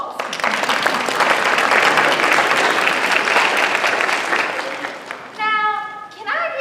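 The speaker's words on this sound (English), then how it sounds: "Give yourselves a round of applause" Audience applause at a live storytelling show, loud and sustained for about five seconds, then fading as children's voices rise and chatter near the end.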